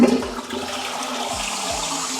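A campsite toilet flushes close by, a loud rushing whoosh of water that starts abruptly and settles into a steady draining gurgle.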